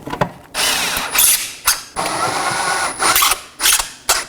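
Screws being tightened with a ratcheting power tool inside the front wheel well of a Chevrolet Equinox, a close series of loud whirring, clicking bursts separated by short pauses.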